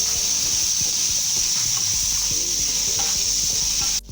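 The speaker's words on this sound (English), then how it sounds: "So I'm going to saute this" Garlic sautéing in hot oil in a pan for Nigerian fried rice, a steady loud sizzle and hiss with light scraping stir strokes underneath, close and continuous.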